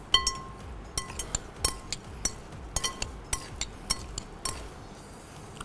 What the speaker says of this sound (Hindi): इसको करना है मिक्स